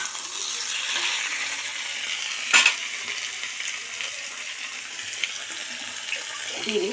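Hilsa fish head and taro greens sauté in a pan with a continuous soft sizzle and occasional stirring scrapes, one sharper clatter partway through, heard close with no voices.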